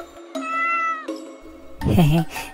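A cat gives two drawn-out meows, close and clear, followed by a voice speaking.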